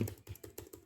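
Keys on a computer keyboard are pressed in a quick, even run of about six soft, close clicks during web page editing, with no voices.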